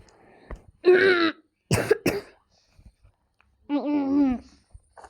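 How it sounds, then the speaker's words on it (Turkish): A few rough coughs and throat-clearing bursts, close and fairly loud, separated by short quiet gaps with faint clicks between them. "arada bir öksürebiliyorum yani bazen bilmeden çıkıyor"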